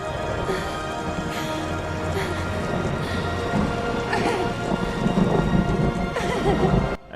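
Heavy rain pours steadily in a movie scene, with rolling thunder and a dense wash of noise, while a horse whinnies and hooves clatter within the storm.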